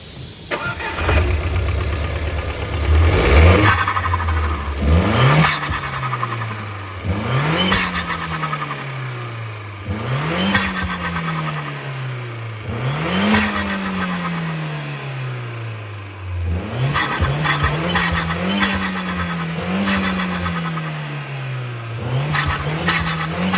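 An Alfa Romeo Giulietta 1.4 starts and revs repeatedly through an active Akrapovič valved sports exhaust, each rev rising then falling back to idle in a series of blips.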